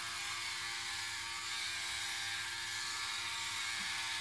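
Philips OneBlade electric shaver running over skin with shaving gel, a steady, faint motor whir with soft, continuous cutting hiss, close up and without talk.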